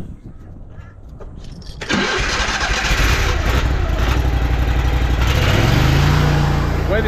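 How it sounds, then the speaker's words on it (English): A drain jetter's petrol engine starts up after a quiet lead-in: a sudden loud catch at about two seconds, then a steady rough running roar that keeps going, with a rising tone near the end. "Let's fire up this jetter."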